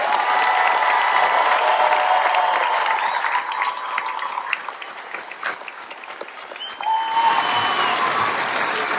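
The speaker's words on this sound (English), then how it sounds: "please help me show how much we appreciate their efforts and give them a round of applause." Ceremony audience of family and friends at an Air Force training squadron coin and retreat event bursts into sustained applause with some cheering, fading slightly midway and then swelling again near the end.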